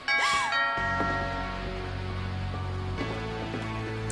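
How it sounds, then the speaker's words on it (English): A doorbell chimes inside a house in the video game What Remains of Edith Finch, a clear two-tone ding-dong ringing out loudly and then sustaining with a long resonant decay, followed by a second softer chime. "The doorbell."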